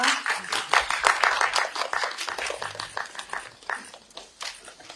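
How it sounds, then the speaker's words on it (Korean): Brisk audience clapping at a Korean film press screening and conference, a burst of many hands near the start that gradually thins and trails off into scattered claps. "다시 한번 큰 박수 부탁드립니다"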